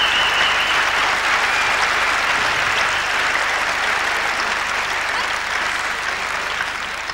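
A large crowd at the Royal Albert Hall applauds a judo display, a loud, dense, continuous wash of clapping that holds steady throughout and tapers only slightly at the end.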